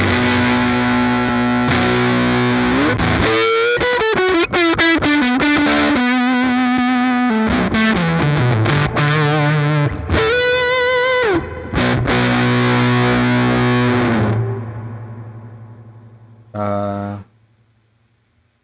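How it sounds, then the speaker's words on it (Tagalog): Electric guitar through the red Fuzz Face fuzz effect on a Valeton GP-100 multi-effects unit, playing loud, saturated riffs and sustained notes for most of the stretch, then a brief final chord ringing out before it cuts off. "Try tayo ng fuzz. Ito, yung fuzz face niya na red."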